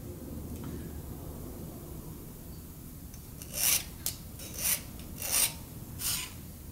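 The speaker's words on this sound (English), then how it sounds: "I think I need to sharpen my scribe here. It's not scratching like I like it to." A metal scribe with a dull point scratches a line into a workpiece on a crusher build, giving five short rasping strokes in the second half, close and fairly loud over a steady low hum.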